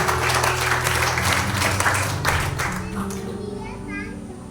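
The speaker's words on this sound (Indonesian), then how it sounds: "Yang mengerti beri tepuk tangan untuk Tuhan." A church congregation at a Good Friday service claps together in dense, sustained applause that gradually thins out, with voices of children and adults mixed underneath.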